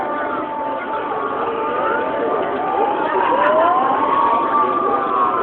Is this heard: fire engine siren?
yes